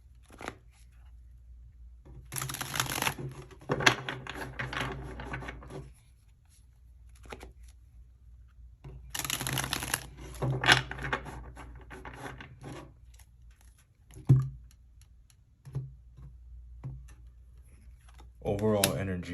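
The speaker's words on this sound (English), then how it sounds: "we'll just get a couple more shuffles" A tarot deck is shuffled in several bursts of riffling and rubbing card sounds, close and crisp, separated by quieter pauses with a voice speaking in between.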